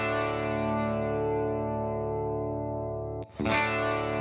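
Clean electric guitar tone from an amp modeler with chorus, compression and reverb, a sustained chord ringing steadily, a brief break of picking noise, then a fresh strum near the end.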